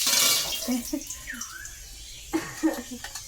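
A little water drops into hot oil in a heated pan and gives a brief, loud sizzling hiss right at the start, then fades as a person talks.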